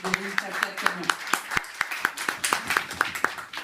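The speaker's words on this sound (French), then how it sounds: "On peut les applaudir" A small group claps in a loose, fairly regular rhythm at a reception for the winners of the 4x4 truck category of a women's rally, close and clear, with a few voices murmuring among the claps.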